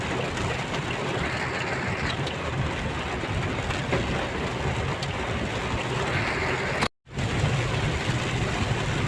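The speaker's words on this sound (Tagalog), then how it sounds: "Grabe, sobrang lakas ng ulan, no?" Heavy monsoon rain pours down on a street in Mandaluyong, a dense, loud, continuous roar with a brief dropout partway through.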